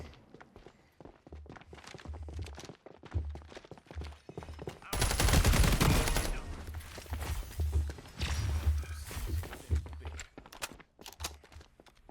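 Gunfire in the first-person shooter FragPunk, with a dense loud burst of rapid shots in the middle amid quieter footsteps and scattered single shots, all heard through game audio with a low background drone.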